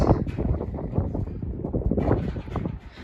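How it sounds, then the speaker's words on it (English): Gusty outdoor wind buffets the microphone with loud, uneven low rumbling that rises and falls throughout, close and unbroken, with no voices. "let's let the wind calm down for 1 second"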